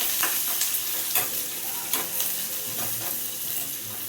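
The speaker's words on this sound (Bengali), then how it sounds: "আমি পেঁয়াজটা ভালো করে ভেজে নেবো।" Onions fry in a pan, giving a steady crackling sizzle close by. Spoon strokes scrape and stir through it at irregular intervals, and no one speaks.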